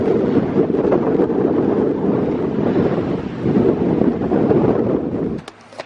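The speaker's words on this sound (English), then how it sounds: "So we're getting gusts up into the 30s." Strong wind gusts roar steadily over the microphone around a sailboat anchored in about ten feet of water during a storm, loud and continuous with a broad rushing texture, briefly dropping off near the end.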